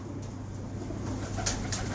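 A pigeon coos low and steady close by, a soft continuous murmur with a faint hiss behind it and no voices.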